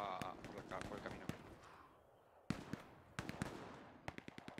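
Gunfire in Hell Let Loose, a World War II shooter: sharp single shots and short volleys crack at varying distances, some close and loud, others fainter, with a pause mid-way and a quick run of shots near the end, under talking voices.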